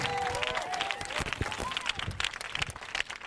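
A church congregation rises to acclaim the Holy Spirit, with clapping and a babble of cheering voices filling a short, steady stretch of loud crowd noise in a worship service.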